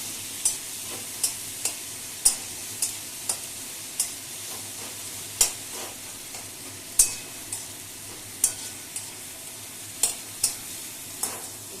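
Tomato and spices fry in a pan as a steady sizzle, with regular sharp taps of a spoon against the pan every second or so, close and clear, with no voices.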